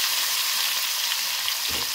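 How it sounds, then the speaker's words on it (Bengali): Catla fish pieces fry in hot oil in a wok, giving a close, steady, crackling sizzle with a soft stirring knock near the end. "কড়াইয়ের মধ্যে তেল হিট হয়ে গেছে, মাছটা মচমচ করে ভেজে নিতে হবে"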